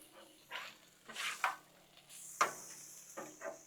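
Chicken enchilada filling sizzling and being stirred on a Blackstone griddle, with quiet frying hiss broken by several short scraping stirs of a spatula.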